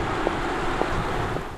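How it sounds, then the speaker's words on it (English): Audi R8 e-tron electric supercar driving with no added sound, leaving a steady broadband rush of tire roll and wind noise, constant and fairly loud throughout with a few faint soft thumps. "Just tire and wind noises."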